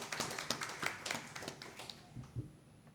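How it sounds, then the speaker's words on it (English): A few people clap at an official launch of an economic survey for Asia and the Pacific, sparse and uneven claps, fairly faint, thinning out after a couple of seconds. "a big round of applause from my end for you"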